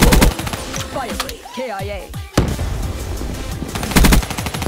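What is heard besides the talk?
gunfire in the video game Black Ops 3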